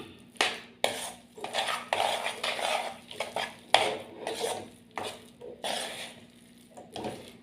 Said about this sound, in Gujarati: બધો મસાલો બધો સરસ રીતે મિક્સ કરી લેવાનો